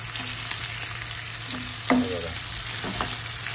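Mutton chops frying in a pan, a constant close hiss of hot oil with occasional stirring scrapes and soft pops, while a voice says a single brief word.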